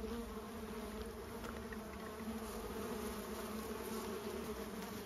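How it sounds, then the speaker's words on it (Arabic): Bees in a busy farm hive of the Pugia type hum in a dense, steady swarm close by, a continuous loud drone with no pauses and no voices over it. "على الرغم انه النحل هايق لكن ما يلسع"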